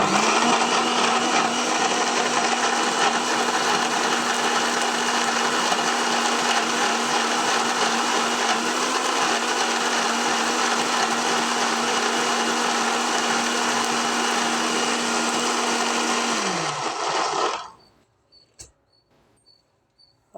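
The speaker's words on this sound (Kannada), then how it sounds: "ಎರಡು ಸ್ಪೂನ್ ಹುರ್ಗಾ ಪುಡಿ ಹಾಕ್ಕೊಂಡಿದ್ದೀನಿ ಇದು ಮನೆಯಲ್ಲೇ ಮಾಡಿ ಸಾಂಬಾರು ಪುಡಿ ಈ ಥರ ಹಾಕ್ಕೊಂಡು ಈ ಥರ ಮಿಕ್ಸಿ ಮಾಡ್ಕೋಬೇಕು" A kitchen mixer grinder blends greens with homemade sambar powder, giving a loud, steady motor whine that runs about seventeen seconds, then winds down and stops, leaving a few faint clicks.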